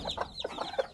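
A hen clucks in a short run of soft, close, choppy calls, several in under a second, with no one talking over them.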